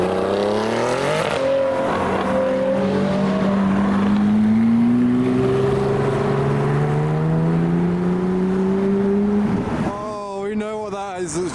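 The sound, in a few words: Porsche GT3 RS 4-litre sports car driving past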